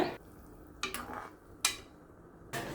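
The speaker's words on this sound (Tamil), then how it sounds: "இடித்த மிளகு சீரகமும் கொஞ்சம் கொத்தமல்லியும் சேர்த்து நல்லா கலந்துக்கோங்க" A utensil stirs mudavattukal kilangu soup with crushed pepper, cumin and coriander in a pot, giving four quick, close scraping swishes separated by short pauses over a faint background.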